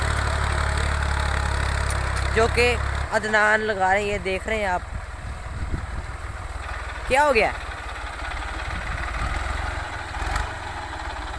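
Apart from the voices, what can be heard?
Ghazi tractor engine straining while pulling a plough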